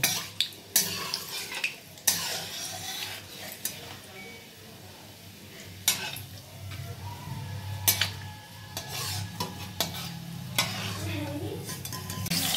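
Whole spices such as mace, nutmeg, green and black cardamom, cloves and cinnamon fry lightly in oil for a mutton curry, a low sizzle broken by sharp clinks and scrapes of a utensil against the pan, close by.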